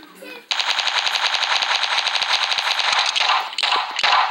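Rapid automatic gunfire from the video game Fortnite, a dense sustained burst of fast shots running nearly four seconds with a brief break near the end, loud and close, with a voice faintly audible before it starts.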